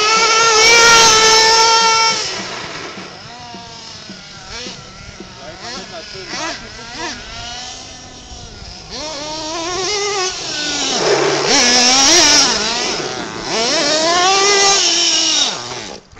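A tuned Losi LST XXL nitro RC car engine runs close and loud, a high buzzing whine that rises and falls in pitch with throttle blips, while people talk over it.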